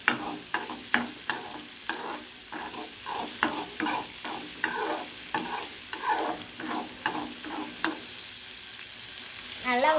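Egg chutney is stirred in a frying pan, with repeated scraping and tapping strokes over a soft sizzle, close and fairly quiet, at an irregular pace that slows near the end.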